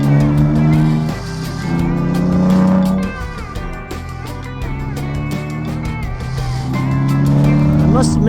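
A 2026 Dodge Charger Sixpack engine growls steadily at moderate volume with rising and falling revs, and a person talks over it throughout.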